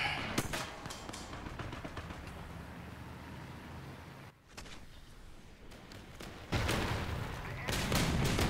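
Rapid gunfire from a video game plays in broken bursts, with loud sharp reports crowding the stretch near the end, while a player talks over it.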